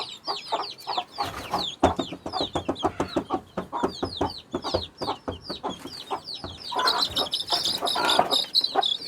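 Hen clucking steadily near her chicks, with high thin cheeping from the chicks throughout and some rooster-like calls mixed in, close and lively in a backyard poultry setting during hot weather.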